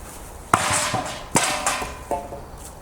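A sharpened Roman pilum throwing spear hits an archery target, giving a sharp wooden thud followed by several more knocks and rattles, close and clear with no talk.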